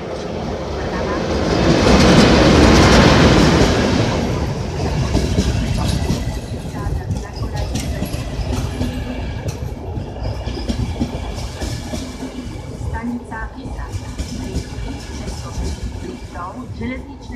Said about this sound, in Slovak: Rýchlik 606 Liptov železničnej spoločnosti Slovensko zo smeru Košice, ktorý pokračuje smer Poprad Tatry, Žilina, Trenčín, Trnava.